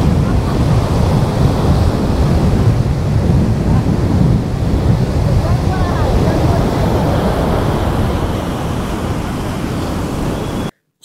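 The sea at Puri, passed from a moving train window, comes through as a steady loud roar of surf blended with wind buffeting and train rumble, continuous for about ten seconds before cutting off.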